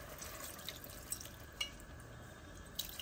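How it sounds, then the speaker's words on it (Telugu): A small amount of water is poured into a pressure cooker holding mutton kheema for biryani. It comes through as a faint, quiet trickle with a few soft drips and splashes, and no one speaks. "ఇప్పుడు ఇందులో వాటర్ వేస్తాం"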